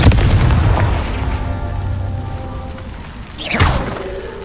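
A Confringo blasting curse in Hogwarts Legacy fires off with a deep boom and rumbling debris, followed by a sharp whooshing burst of magic near the end.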